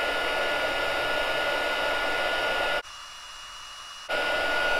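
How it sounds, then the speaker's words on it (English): A heat tool blows over puff paint on a handmade card, a steady close-up whooshing hum that cuts out briefly for about a second before resuming. "the puff paint, when you heat it up, it gets puffy"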